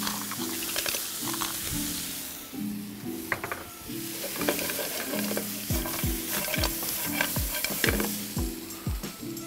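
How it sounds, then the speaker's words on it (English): Clams and mussels are stirred into a pan of sizzling Thai green curry, a steady loud frying hiss broken by repeated scraping stirs and shell clatter, close and without talk. "We want everything coated in that Thai green curry that we made. Gonna add in a couple clams, couple mussels."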